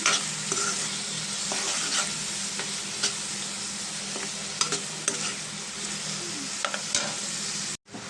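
Onions frying in a pan with turmeric and salt, a steady close sizzle running throughout with frequent scraping stirs of a spoon, alone with no voices, breaking off abruptly just before the end.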